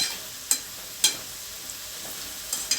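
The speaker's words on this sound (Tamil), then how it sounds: "இந்த சலசலப்பு அடங்கிடுச்சுனாவே நம்மளுக்கு வெந்துருச்சுன்னு அர்த்தம்" Bitter gourd pakoda sizzle softly in oil with a low, quiet crackle, and a few sharp ticks sound as the pieces are stirred in the pan, close by with no speech.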